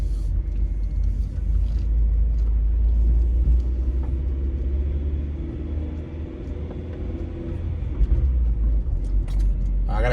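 A car rolls slowly along a city street in Philadelphia's Kingsessing neighborhood at about 15 mph, its steady low engine and road rumble filling the whole stretch, close and continuous.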